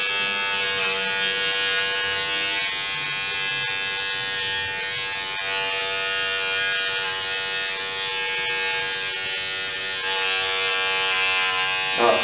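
Electric hair clipper buzzing steadily and close during a haircut, a continuous loud motor hum with little variation, with occasional faint voices in the background.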